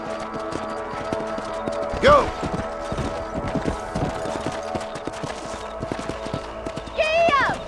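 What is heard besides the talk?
horse galloping in video game Red Dead Redemption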